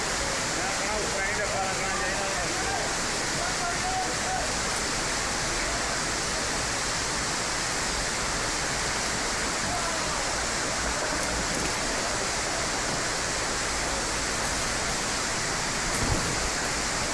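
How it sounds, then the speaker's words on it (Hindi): Stormwater pouring down from the mountains onto a track in Jammu and Kashmir during heavy rain and flooding, a loud, constant rushing roar of flowing water that stays steady throughout. "पहाड़ों से पानी भी ट्रैक पर लगातार आ रहा है"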